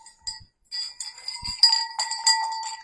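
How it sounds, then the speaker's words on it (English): A small jingle bell on a silver and white Christmas lantern decoration is handled, ringing in a few bright, tinkling bursts that grow louder and more frequent toward the end, close by and alone. "oh, here's my jingle bell."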